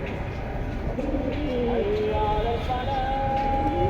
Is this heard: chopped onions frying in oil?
no